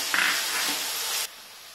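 Ginger garlic paste hits a hot pan with onions, giving a brief loud sizzle that hisses steadily for about a second before dropping away, with no talking.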